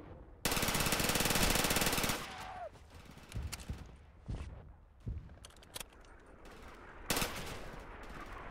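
Loud burst of automatic machine gun fire in the WWII shooter Darkest Hour: Europe '44-'45, a sustained two-second volley followed by scattered nearby shots and thuds, with faint voices in the background.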